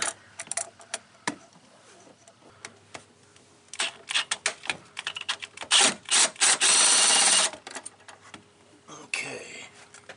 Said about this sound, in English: if you've got a swivel socket, you should be able to get on it